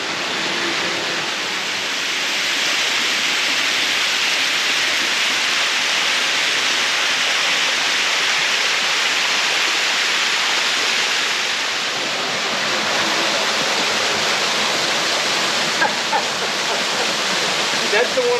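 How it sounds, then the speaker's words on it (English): Waterfall in the Cheaha Wilderness, a loud continuous broadband roar of falling water that holds steady and close throughout, with no break. "I'll let you enjoy the waterfall"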